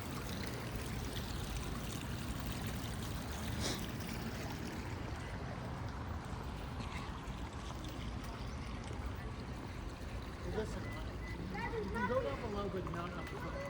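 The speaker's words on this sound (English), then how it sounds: "A beautiful water fountain here." A water fountain in a COVID-19 memorial garden in Santa Fe, New Mexico, gives a steady splashing wash throughout, with people talking over it.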